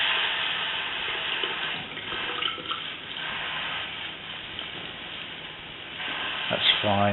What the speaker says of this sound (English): So we're going to let the tap run